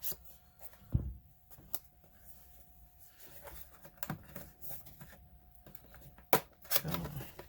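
Scissors or a blade cutting through packaging on an Anker Soundcore Flare Mini Bluetooth speaker box: scattered rustles and sharp snips and scrapes, a few louder crinkling bursts, close and quiet, with no talk.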